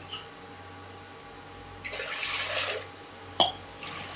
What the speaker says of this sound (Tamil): 2 டம்ளர் தண்ணி சேர்த்துக்கலாம்.